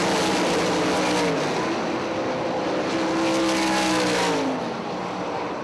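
Sprint cars racing in a heat race at Eldora Speedway, a dirt oval in Rossburg, Ohio: loud, continuous engine roar from several cars with rising and falling pitch as they pass, steady throughout with no talk.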